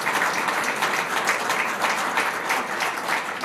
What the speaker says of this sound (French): Franchement, elle mérite vraiment ces applaudissements.